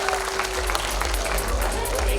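Student summit audience applauding a keynote speaker, a loud, continuous wash of clapping mixed with crowd noise and a low rumble from the hall's sound system.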